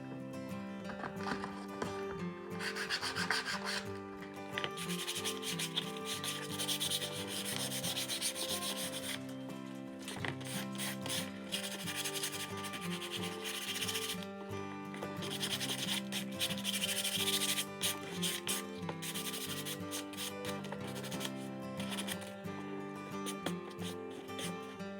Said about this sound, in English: we're going to take some sandpaper and we're going to distress them a bit